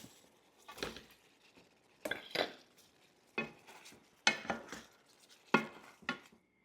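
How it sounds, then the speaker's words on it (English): Meatballs going back into a creamy sauce in a pan, followed by quiet stirring: a series of soft utensil clinks and scrapes in irregular bursts against a faint simmer. "Now I'm going to go ahead and add the meatballs back into the sauce mix."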